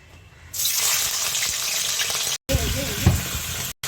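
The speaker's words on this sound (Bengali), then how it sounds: "চিকেনগুলো আমি একটু হালকা করে ভেজে নিচ্ছি।" Chicken pieces spit and sizzle loudly in hot oil in a wok, a steady broadband frying hiss with occasional stirring clatter and two brief dropouts.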